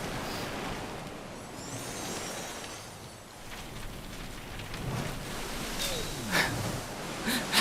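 Waves in the video game Tearaway Unfolded wash and rumble continuously like surf, with scattered splashy bursts and faint higher tones layered over the steady roar.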